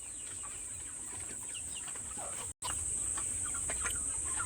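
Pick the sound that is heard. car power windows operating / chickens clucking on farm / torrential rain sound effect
chickens clucking on farm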